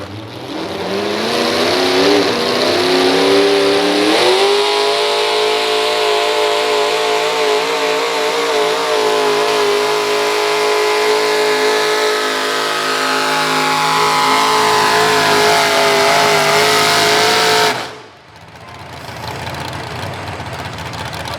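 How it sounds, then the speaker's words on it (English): A square-body Chevy pulling truck revs hard at a truck and tractor pull in Maryland. Its loud, roaring engine climbs in pitch and holds a sustained howl for about seventeen seconds before cutting back sharply to a lower rumble. "here comes the square body Chevy they call Alcohol Abuse"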